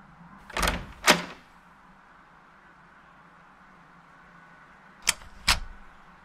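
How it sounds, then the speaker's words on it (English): A door in the Tesla Effect video game opens with a two-part clunk near the start, then a second similar pair of sharp knocks follows after a quiet pause, all fairly close and alone. "Door."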